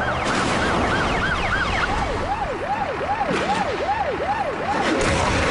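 A video game ambulance's wailing siren sweeps up and down rapidly in a repeating yelp, loud and close over steady engine noise.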